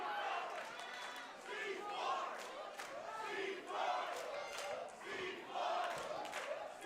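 A wrestling crowd at a West Coast Pro Wrestling show chants and cheers in rhythmic swelling waves, voices rising and falling together, heard at a moderate distance with an arena echo.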